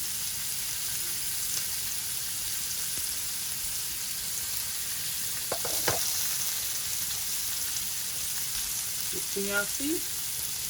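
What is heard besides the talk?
lamb chops sizzling on a grill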